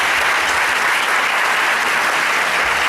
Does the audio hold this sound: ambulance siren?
no